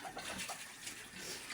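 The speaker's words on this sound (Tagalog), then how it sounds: "naghuhugas ng rinisis ng mga balde" Water splashing and sloshing while buckets are rinsed and washed outdoors on a small farm, a continuous close wet wash with small bursts, fairly quiet.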